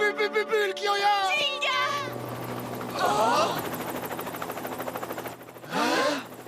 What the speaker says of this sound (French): Encore cet hélicoptère!